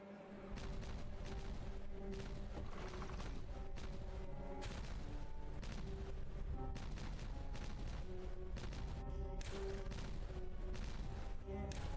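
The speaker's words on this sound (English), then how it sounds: "So I'm gonna detonate all this now." Dynamite charges detonating in the colony game Timberborn, a dense run of booming blasts and crashes that rolls on steadily throughout without a break.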